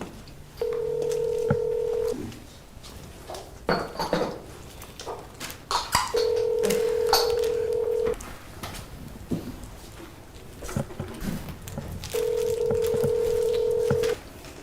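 A telephone rings out on an Ethiopian sitcom set, three long repeated tone bursts separated by pauses, with soft clatter and rustling between them; the call goes unanswered.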